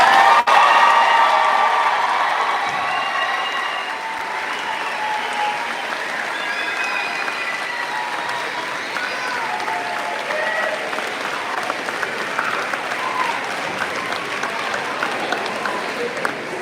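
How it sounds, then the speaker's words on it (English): A large audience at a high school graduation ceremony claps loudly, the applause strongest at first and then settling into steady clapping with a few scattered cheers. "Let's give our new graduates a round of applause."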